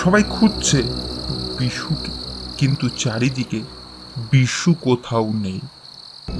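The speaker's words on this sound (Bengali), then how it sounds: "শুধু ঝিঝি পোকার ডাক শোনা যায়" Steady high-pitched cricket chirping runs throughout, with someone speaking over it for most of the clip.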